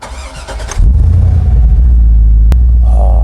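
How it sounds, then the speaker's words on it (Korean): A Hummer H2 engine cranks and fires up, then settles into a loud, steady, deep idle rumble close by with no talk. "내가 시동 한번 걸어봐도 되지?"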